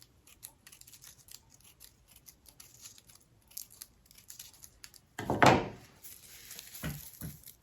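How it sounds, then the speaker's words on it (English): Scissors cut partway into paper while a magnolia paper flower is being made: one loud, close crunching snip, then a second shorter, softer cut a moment later, with a quiet room before. "we're going to take our scissors and we're only going to cut halfway down"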